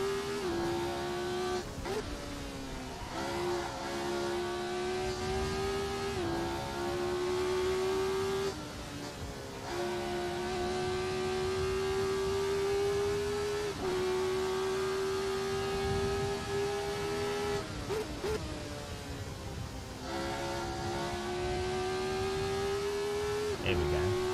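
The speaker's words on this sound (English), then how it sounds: "The Radical sounds like a motorbike." Radical race car in the Assetto Corsa racing simulator, its high-revving, motorbike-like engine screaming up through the gears with repeated sharp shifts and brief drops, loud and close throughout, with no talk.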